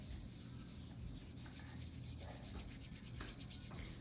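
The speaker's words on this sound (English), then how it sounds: "I'm gonna go ahead and powder my underarm. So I'm just gonna rub it in there." Powder is rubbed onto underarm skin before waxing, a faint, steady close-up scrubbing sound with soft repeated strokes and no talk.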